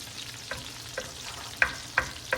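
Chicken Alfredo ingredients fry in a pan, a steady sizzle broken by a handful of sharp pops and splatters roughly every half second.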